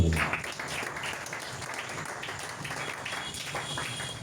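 A church congregation applauds together in a steady, dense wash of clapping that holds at an even level throughout, with no voices rising above it.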